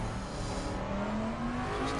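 V8 car engine revving in a racing game, a loud steady drone rising slowly in pitch over two seconds, close up and alone.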